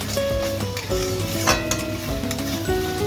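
Spice paste sizzles in oil while being stirred in a pan, the steady frying hiss joined by clinks of a spoon against metal and a tonal background.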